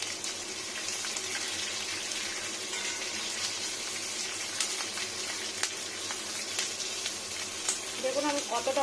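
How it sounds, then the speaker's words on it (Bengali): A pan of bori, ginger and green chillies fries for a no-onion, no-garlic vegetarian sukto, giving a steady, fairly quiet sizzle with faint stirring that runs throughout, with a voice briefly coming in near the end. "দেখুন আমি কতটা ভাজছি।"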